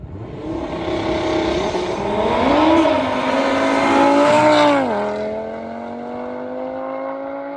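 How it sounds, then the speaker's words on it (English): A five-cylinder car engine revs hard and close, climbing and falling in pitch through several pulls before settling to a steady, lower drone. "I love the sound of that 5-cylinder"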